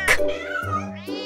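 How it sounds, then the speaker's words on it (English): A cat gives a single drawn-out meow close by, rising and then falling in pitch, followed by a shorter second call at the end. "C. Cat."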